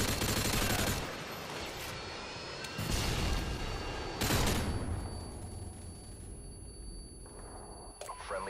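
Video game gunfire during a match, heard as muffled, rumbling volleys that swell and fade in a few long washes, fairly distant and quiet.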